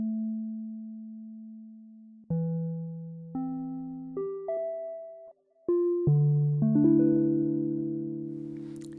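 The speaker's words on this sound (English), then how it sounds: "So I'm going to play my synthesizer." Synthesizer played with pure, clean tones: a single held note, then successive notes and chords stacking upward, sustained and smooth, ending in a fuller held chord.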